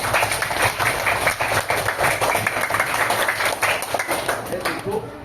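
Children in a classroom clap together in a dense, continuous round of applause that stays loud and steady throughout, with a busy room behind it.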